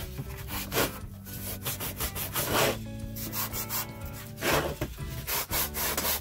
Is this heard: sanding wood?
yes